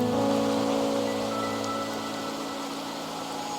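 Nighttime rain from the video game Wuthering Waves forms a steady soft hiss over a low ambient drone and tonal music, gradually fading slightly over a few seconds with no speech.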